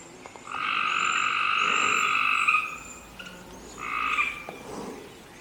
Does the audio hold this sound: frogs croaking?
yes